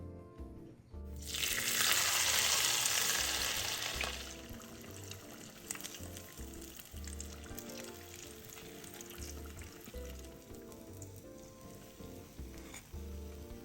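Shrimp and chive fritters deep-fry in hot oil, starting with a loud burst of bubbling sizzle that fades to a quieter, steady crackle, with no one speaking.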